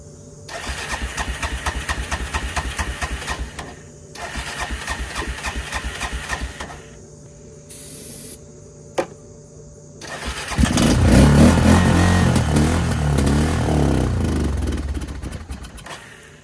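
A 20-year-old ATV engine with the choke on cranks in two long bursts of rapid starter whirring, then catches and roars into a rough, loud running idle for the last several seconds.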